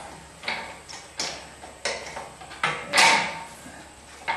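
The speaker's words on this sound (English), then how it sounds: "since it kind of ratchets" Ratcheting wrench working a bolt on a car's rear differential mount, a series of short mechanical clicks and scrapes in uneven bursts about every half second, close and fairly quiet.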